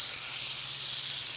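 Top sirloin steaks, cooked from frozen, sear in a hot pan with a steady, bright sizzle that holds unbroken for a brief moment, close and fairly loud with no talking.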